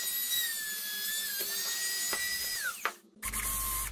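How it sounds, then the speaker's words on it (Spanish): A high-pitched whining rotary mini tool rounding the fingers of a wooden figure, its pitch dipping as it bites, then cutting out before a brief lower hum. "Le daré forma circular con la mini herramienta a los dedos"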